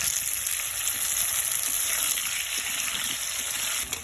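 Steady sizzle of potatoes frying in oil in a pan, a dense even crackle holding at the same level throughout with no talking.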